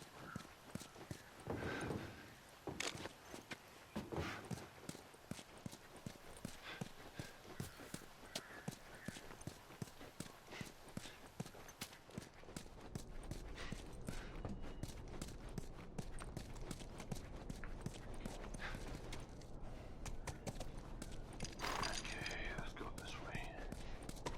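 Horse hooves clip-clop in a steady walking rhythm in The Last of Us Remastered, with quiet whispered talk over them and the pace and ground noise picking up partway through.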